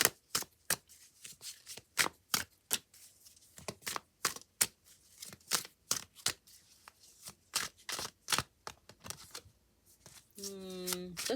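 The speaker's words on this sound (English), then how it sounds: "Let's get another card for the outcome there." Tarot cards shuffled and drawn by hand, a rapid series of crisp riffling slaps and flicks in irregular bursts, close and clear, with a brief voice at the end.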